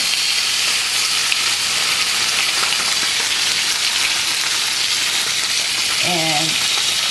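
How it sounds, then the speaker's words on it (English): Loud, steady sizzling and hissing of salmon frying in a hot oiled pan, continuous throughout, with a brief tonal squeal near the end. "but y'all hear this sizzle?"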